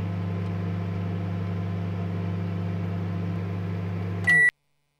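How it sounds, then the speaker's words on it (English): A microwave oven in a convenience store night-shift video game hums steadily for about four seconds, then gives a short, bright electronic beep and cuts to silence. "It's really gonna make me wait the normal amount of time for a microwave to warm up shit."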